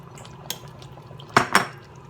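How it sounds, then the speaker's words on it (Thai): A few clinks of utensils against a pot, then two quick splashy clatters as quail eggs drop in, over a quiet kitchen background. "ใส่ไข่นกกระทะลงไป"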